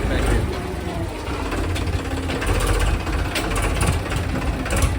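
A tractor engine churns steadily nearby while it levels a road so a stuck vehicle can pass, loud and continuous with a rough knocking idle and speech mixed in.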